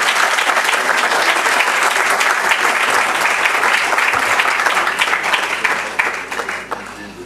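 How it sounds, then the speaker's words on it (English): An audience at a public endowment award lecture gives a speaker a full, dense round of applause that holds steady and then starts to fade near the end. "welcome him with a great round of applause"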